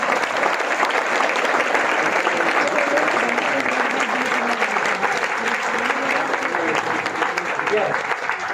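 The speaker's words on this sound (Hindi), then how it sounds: "तो अपने लिए एक बार साथियों जोरदार ताली बजा दीजिए।" At an Ayurveda workshop in Thane, the audience gives loud, sustained applause, a thick steady roar of many hands clapping with voices faintly mixed in throughout.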